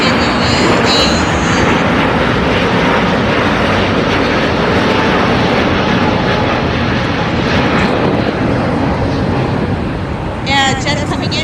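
A Qatar Airways airliner departs runway 25 at LAX, producing a loud, steady jet roar that holds for about ten seconds while a person talks over it.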